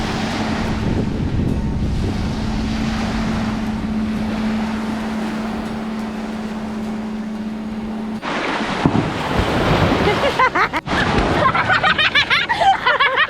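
Ocean surf washing in steadily at Malvan beach in Konkan, with heavy wind buffeting the microphone; a low steady hum runs through the first part before louder breaking waves follow.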